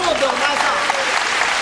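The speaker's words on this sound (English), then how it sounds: "The audience applauds because it really is the actor Nakamura Kosanza's birthday" Kabuki theatre audience at the Kabuki-za applauding an actor's ninetieth birthday, a dense, loud, continuous wash of clapping from a large crowd.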